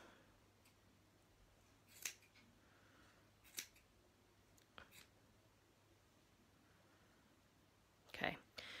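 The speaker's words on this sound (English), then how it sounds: "all you need now is a really lovely sharp pair of scissors" Sharp scissors snip through crochet yarn loops of a pom-pom in a quiet room, four crisp isolated cuts spaced a second or more apart, the last one loudest, with faint background hiss.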